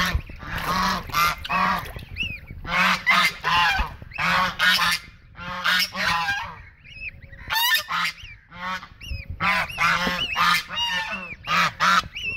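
A flock of geese in a village cage area honk loudly and repeatedly close by, overlapping nasal calls in bursts with only brief gaps, no speech.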